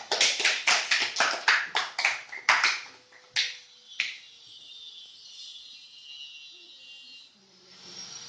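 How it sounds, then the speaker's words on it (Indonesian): A group of students in a classroom claps in a quick rhythmic pattern, about a dozen sharp beats, then stops abruptly. A faint steady hiss follows. "Beri tepuk tangan"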